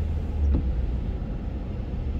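A car drives along Dixie Road at the back of Pearson Airport in Toronto amid light traffic, a low steady engine and road rumble from inside the cabin, with a brief swelling whoosh early on.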